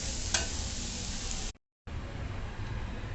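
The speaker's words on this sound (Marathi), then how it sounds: "एक छोटासा बारीक चिरून कांदा आपण परतवून घेऊ" Finely chopped onion with a pinch of turmeric sautéing in a pan for gilke (ridge gourd) bharit, a steady broadband sizzle with stirring, briefly cut to silence midway before the sizzle resumes.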